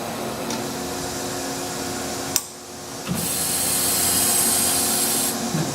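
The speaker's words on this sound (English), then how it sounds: "Now you can see the dresser dressing." An automatic dresser on a Chevalier AD III series surface grinder dresses the grinding wheel, giving a steady broadband grinding rub that drops briefly in the middle, then returns a little louder and holds.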